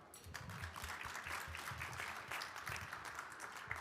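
An audience applauds the Seoul Wind Rotary Club orchestra at a Rotary district conference opening in a Grand Hyatt Seoul hall, a steady, moderately distant wash of clapping that holds evenly throughout.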